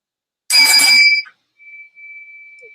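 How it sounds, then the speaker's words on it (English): A school bell gives one loud, brief, rattling ring, close and clear, followed by a thin, steady, fainter tone that holds for a moment in an otherwise quiet room. "I have a great school bell."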